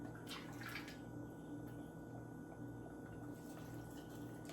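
Steady low bubbling and gurgling of water in a canning jar of kale inside a Presto electric pressure canner, continuous and fairly quiet, with faint higher trickling sounds over a constant background.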